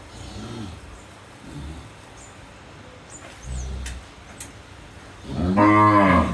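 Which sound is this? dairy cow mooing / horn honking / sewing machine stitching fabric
dairy cow mooing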